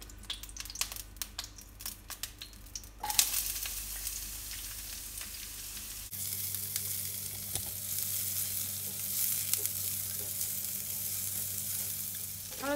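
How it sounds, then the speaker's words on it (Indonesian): Garlic and chili sautéing in a Stain Cookware pan, a steady close sizzle and fry with stirring scrapes, louder after a shift partway through, no voices. "Tumis bawang putih dan cabenya."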